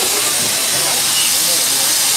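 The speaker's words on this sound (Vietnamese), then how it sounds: "Ủa nó sôi lên kìa." A pot of porridge on a steam cooker boils over with a loud, continuous broadband hiss of escaping steam, filling the whole moment without a break.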